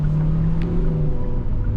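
Hyundai Stargazer X with its IVT transmission accelerating, a loud, steady engine drone heard close from inside the car, with a slight rising hum.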